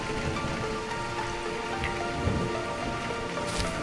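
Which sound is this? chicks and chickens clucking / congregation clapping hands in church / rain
rain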